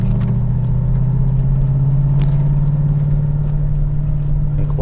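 A Hennessey HPE850 Hellcat V8 idles with its exhaust valves closed, a steady, muted, low rumble heard from nearby with a faint tick running through it.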